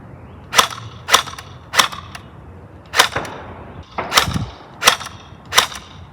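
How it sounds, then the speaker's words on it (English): A gun fired on semi-automatic at a black target outdoors at the edge of a front yard, seven sharp, loud shots spaced irregularly about half a second to a second apart, with no talking. "Start on semi. I'm shooting them at the black target."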